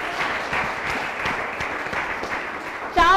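An audience applauds steadily throughout a Christmas special show, a dense wash of clapping that swells slightly near the end.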